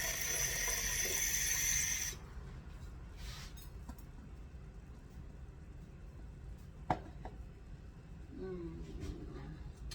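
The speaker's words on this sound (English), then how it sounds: "I have to add the water up to the 2-cup line right here." Tap water runs into a measuring cup up to the two-cup line while semolina and amaranth pasta is being prepared. A loud, hissing stream lasts about two seconds, then cuts off, leaving a quiet kitchen with a few faint clinks.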